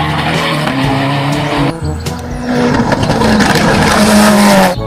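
A toy race car sound effect plays loud and continuous, with engine revving and squealing tyres skidding throughout.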